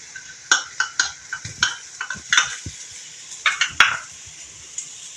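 Carrot and cabbage being stirred in a pan for patti samosa filling: a run of about a dozen sharp spatula scrapes and clicks against the metal over a faint sizzle, close and uneven in rhythm.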